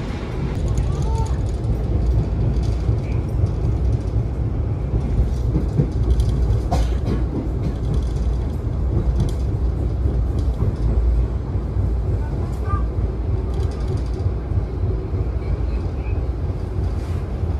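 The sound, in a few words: Kertanegara economy class passenger train running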